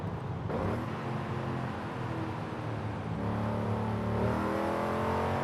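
A car engine in Forza Horizon 5 revs hard and climbs in pitch, a sustained loud rasping drone that dips briefly and then builds again toward the top of the range.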